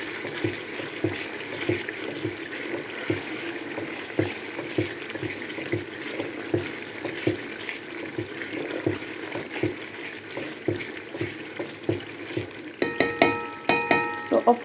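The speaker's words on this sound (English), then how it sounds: "And I'll stir it." Vegetable soup with crayfish, ginger and garlic stirred in a pot, with continuous simmering sizzle and a regular series of close scraping stirs, a few sharper clinks near the end.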